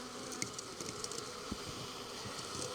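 Honeybees buzzing steadily at close range as they are rolled in lumpy leftover flour, a continuous insect drone with small taps and rustles of handling, no talking.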